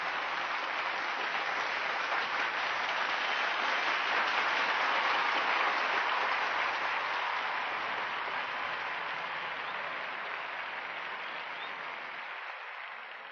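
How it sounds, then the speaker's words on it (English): A large audience gives sustained applause at the opening of Swami Vivekananda's 1893 Chicago speech, a dense, even clapping that swells and then slowly fades toward the end. "A deafening applause of 2 minutes followed."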